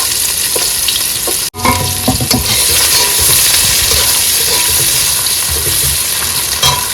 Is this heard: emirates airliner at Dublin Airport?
no